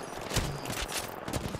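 Gunfire in the battle royale video game Apex Legends: a dense, continuous burst of rapid shots rattling through the whole short stretch at moderate level.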